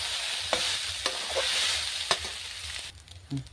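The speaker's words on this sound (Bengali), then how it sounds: "চাউমিনটা আমি ভেজে নেব আস্তে আস্তে করে।" Chow mein noodles sizzle and fry in a wok, loud and steady, with several sharp clanks of a spatula stirring and scraping them.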